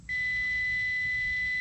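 A multimeter gives a continuity beep while probing wiring to the pressure switch on an R-410A air-conditioning unit: one steady, high electronic tone held for over a second, close and clear.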